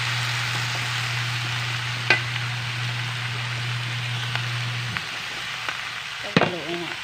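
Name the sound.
vegetables being stirred and fried in a pan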